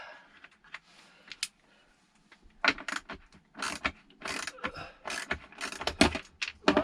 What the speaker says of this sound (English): I'm going to use the 1/4" ratchet on a 10mm